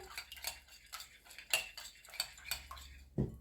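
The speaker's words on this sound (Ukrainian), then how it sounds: "Так, спочатку ложкою собі розмішую." A spoon stirs an egg with a pinch of salt in a bowl, rapid irregular metallic clinks and scrapes against the dish, close and fairly loud, ending with a heavier knock, no voices.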